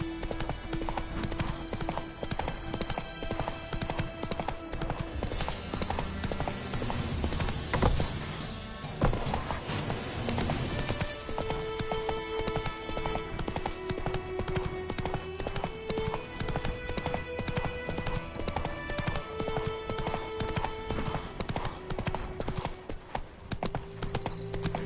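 Roach the horse galloping in The Witcher 3, a fast continuous patter of hoofbeats drumming close and steady over game background sound and music, with a brief whinny-like burst midway.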